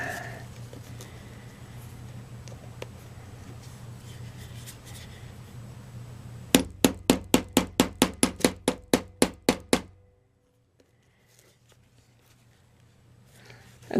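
Hammering on an anvil while making moccasin lace loops: after a low background hum, a quick run of about a dozen sharp, evenly spaced metallic strikes sounds close and loud, then stops abruptly into near silence.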